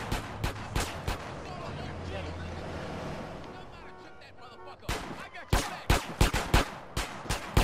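Gang members open fire in GTA San Andreas on PC, with sharp gunshots and bursts cracking in loud, uneven clusters that pause briefly and then resume. A player speaks over the game sounds.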